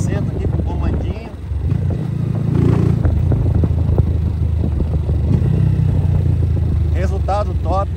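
A 160 cc motorcycle fitted with a performance camshaft rides along, its engine droning steadily with a rough, continuous hum and some wind and clatter, and a voice speaks briefly toward the end.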